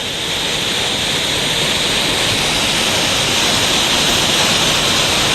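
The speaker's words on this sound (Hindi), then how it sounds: "सड़क के ऊपर से पानी झरने की तरह बह रहा है" Fast floodwater pours over a highway like a waterfall, a loud, steady broadband roar of rushing water with no pause throughout.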